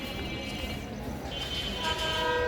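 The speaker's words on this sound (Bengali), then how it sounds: "এই যে দুরন্ত গতিতে চলে আসছে ফাইনালি প্রবেশ করতেছে আমাদের চুয়াডাঙ্গা রেল স্টেশনে" A train arrives at Chuadanga railway station in Bangladesh with a dense, continuous rumble of rolling wagons. Steady horn-like tones rise partway through, and the sound grows slightly louder as it comes in, with no clear talk.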